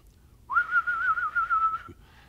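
A person performs a warble whistle, a single sustained wavering tone lasting about a second and a half, loud and close, with no talk during it.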